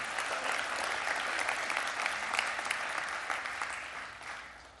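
A church congregation claps in a steady, dense wash of applause that holds evenly and fades slightly toward the end, with no talking over it.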